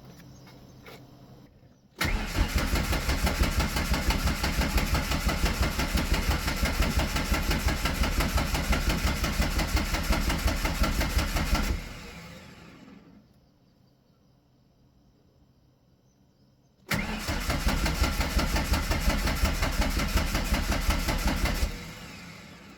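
A Foxbody Mustang's 2.3 turbo engine cranks in two long bursts, a steady rapid chugging that never catches with the spark plug wires off, separated by a quiet pause.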